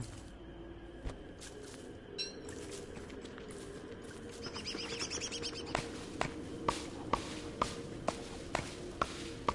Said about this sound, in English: Thank you, bird, for bringing me a seed.